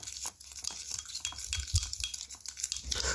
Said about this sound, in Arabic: ثم نباشر في عملية الخلط